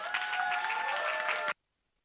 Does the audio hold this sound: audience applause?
yes